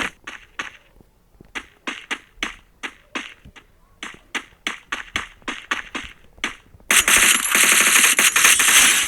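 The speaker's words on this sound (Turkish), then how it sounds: "Ben bu silahla çok iyiyim. Dürbünün açınca çok iyi sıkıyorum." Rapid bursts of gunfire from a scoped weapon in the video game Free Fire, crisp repeated shots in quick clusters, followed by a loud, dense stretch of continuous firing and noise at the end.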